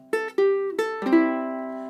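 A ukulele plays a short chord-melody phrase from Buffalo Gals: four picked notes on open and fretted strings, each ringing into the next, ending on a sustained strummed chord, clear and close.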